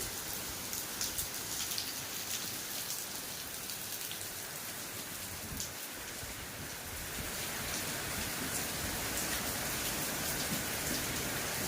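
Heavy rain pours down steadily, a dense, even hiss of drops striking surfaces all around, loud and continuous for the whole stretch with no voices.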